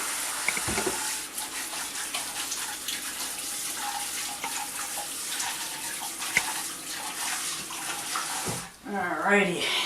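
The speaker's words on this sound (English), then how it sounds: "let me wash my hands again" Hands are washed under a running kitchen tap, a continuous close hiss of flowing water that ends abruptly near the end, with a person speaking briefly over it.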